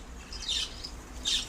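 Lovebirds eating leaves give two high, shrill squawks a moment apart, fairly close, over a steady low background hiss.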